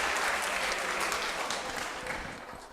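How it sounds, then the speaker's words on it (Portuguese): A congregation applauds a young performer at a church youth gathering, steady mid-distance clapping from a crowd that carries on evenly and fades slightly toward the end. "Palmas pro Fred Julius"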